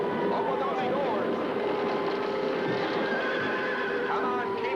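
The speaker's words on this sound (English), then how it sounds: "Get the horses out." Horses neighing and whinnying over steady clip-clopping hooves as they are hurried out of a barn, busy and fairly close, with a voice calling out over the herd.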